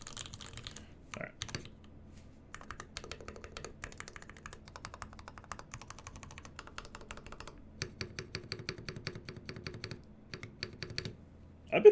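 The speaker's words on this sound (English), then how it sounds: "Do a little typing test here." Custom mechanical keyboard typed on in a quiet room, quick irregular runs of crisp clacky keystrokes with brief pauses and a few heavier thocks, close and fairly soft.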